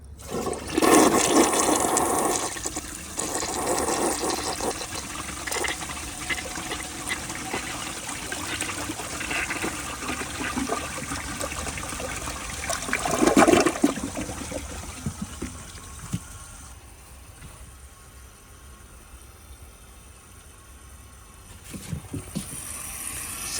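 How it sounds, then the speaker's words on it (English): A 1983 Gerber Mt Vernon toilet flushes loudly with a rushing swirl, then settles into a long trickle and refill as the tank fills, heard alone and close by. "Let's see a flush and see how it does on tests."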